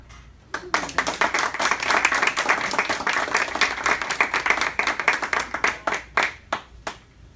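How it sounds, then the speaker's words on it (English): Applause from a Toastmasters-style meeting audience welcoming a speaker, a dense wash of clapping that swells in, holds steady, then thins into a handful of separate sharp claps near the end. "Give me a round of applause to welcome Shuri Wang"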